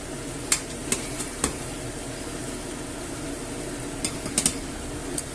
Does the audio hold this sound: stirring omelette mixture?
yes